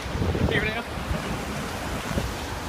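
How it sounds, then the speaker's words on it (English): Rushing water and wind on a rapids boat ride at Thorpe Park theme park, a broad continuous wash of splashing and surging water, loud and close, with faint crowd voices mixed in and a brief high squeal early on. "So I'll give you some shots of this Rapids ride."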